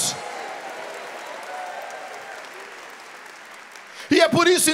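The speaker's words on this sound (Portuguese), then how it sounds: "Pode aplaudir, pode aplaudir, pode aplaudir." A church congregation applauds in a steady, broad wash of clapping that holds for several seconds, then a voice breaks in loudly near the end.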